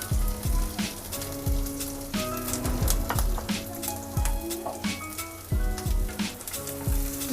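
Cumin, ginger and garlic fry in hot oil in a pan, giving a steady crackling sizzle with bright pops and a few recurring clanks of a spoon stirring against the pan.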